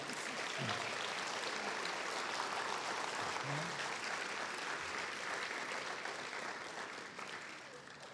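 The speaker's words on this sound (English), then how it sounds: "Please give her a round of applause" At a Martin Luther King Jr. Day celebration, an audience applauds Celeste Chavez, recipient of the 2023 Humanitarian Award, with steady crowd clapping that holds evenly at a distance, then slowly fades toward the end.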